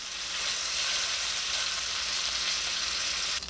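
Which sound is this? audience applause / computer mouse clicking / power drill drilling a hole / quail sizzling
quail sizzling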